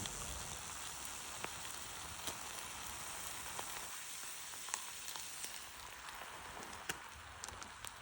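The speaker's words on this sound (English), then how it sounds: "I've got the halloumi frying away" Steady, dense sizzling of halloumi frying in a hot pan at a woodland camp, with occasional sharper pops and crackles throughout, no voices.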